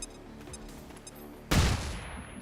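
A flashbang grenade goes off in the video game XCOM 2 Long War, a single sudden loud blast that cuts through a low game hum and rings off briefly.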